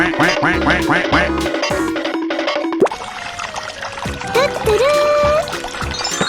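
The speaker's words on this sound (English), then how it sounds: "quack, quack, quack, quack, quack." A 3D animal slide video game plays a rapid run of loud cartoon duck quacks over splashy plopping and bright game music, followed by a sliding whistle-like tone.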